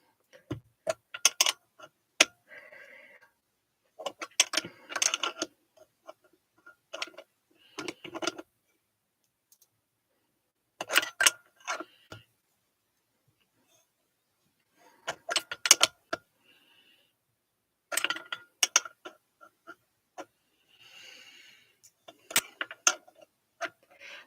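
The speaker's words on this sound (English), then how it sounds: "like a hand crank, heavy duty, like leather sewing machine" A hand-cranked heavy-duty leather sewing machine clacks in short mechanical bursts separated by silent pauses, with ticking and rattling parts close by.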